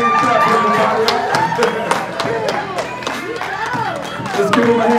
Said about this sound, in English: Let's give him a hand clap, everybody.